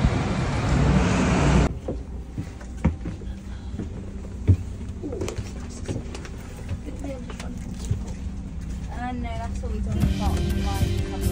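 A coach bus travelling to Oxford gives a steady, moderate rumble of engine and road noise throughout, with small knocks and rattles along the way. Talk is audible briefly near the start and again near the end.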